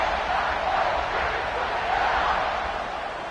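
Broad roar of a football stadium crowd during a Notre Dame versus Ohio State kickoff, a steady, dense wash of cheering voices with slight swells and no clear pauses.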